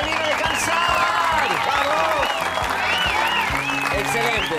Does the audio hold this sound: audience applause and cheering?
yes